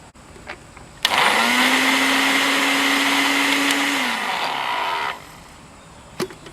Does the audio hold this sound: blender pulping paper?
yes